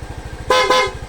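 A Yamaha Mio motorcycle's stock horn gives two short, loud, close honks over the low putter of the idling engine.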